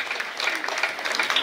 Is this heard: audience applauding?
yes